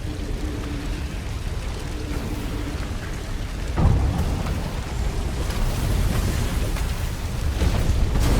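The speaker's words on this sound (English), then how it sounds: "Cannon trap." A cannon trap fires inside an ancient temple in a video game, a deep boom cutting through a steady rumbling backdrop before the heavy noise rolls on.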